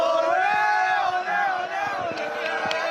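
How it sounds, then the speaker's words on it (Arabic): A dense crowd of football fans in Paris, celebrating a Moroccan national team victory, roars and chants continuously, with voices and shouts blending into a loud, sustained wall of cheering. "هذه الجماهير في العاصمة الفرنسية باريس"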